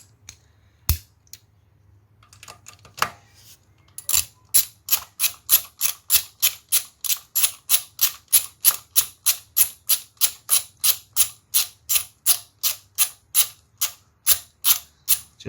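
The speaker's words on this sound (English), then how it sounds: "you have to screw that one down. And the size of that is your 12mm socket." A ratchet with a 12mm socket tightens a bolt on a 2014 Honda VFR800 motorcycle centerstand, giving a fast, steady run of crisp, close clicks after a few scattered taps.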